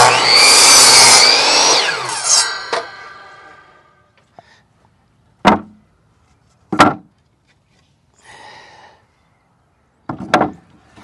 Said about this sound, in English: I'm using a jigsaw to cut this just because